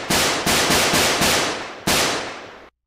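Assault rifle in an Unreal Engine 5 GTA remake firing a series of loud, close single shots in an uneven rhythm, about six cracks with decaying tails, the last followed by sudden silence.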